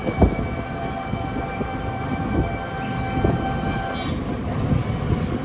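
Metro train at a station, a steady loud rumble of rail cars with sustained high tones and faint clanks, close and continuous, with no talking.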